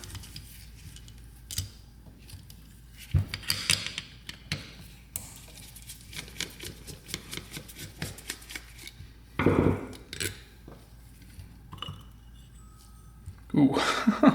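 A carburetor held by three bolts is unbolted from a Honda three-wheeler ATV, with scattered ticks, clicks and metallic ratchet-like taps from the tools, close by, and several louder bursts of handling near the end.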